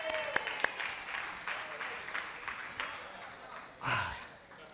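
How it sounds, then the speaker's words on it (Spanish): Applause from a church congregation during a conference sermon, a soft, somewhat distant patter of clapping that stays fairly even for several seconds and swells briefly near the end. "Aplauso."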